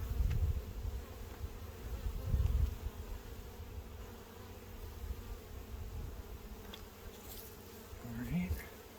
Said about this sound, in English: Really gentle, calm bees.